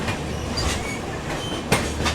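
An Indian passenger train, the New Delhi–Barauni special, rolls along with a steady rumbling roar and rhythmic wheel clatter, plus a sharp clank near the end, heard close from on board.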